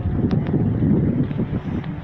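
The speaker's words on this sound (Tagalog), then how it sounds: "Ang lakas ng hangin" Strong typhoon wind under a Signal No. 4 storm warning roars and buffets the microphone continuously, a loud, dense rush with brief gusty bursts and no clear speech.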